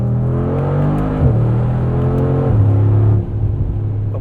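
A 2020 Mercedes-AMG G63 engine pulls hard on the road, a loud, close drone climbing through gears with two shift drops before easing off near the end, no voices.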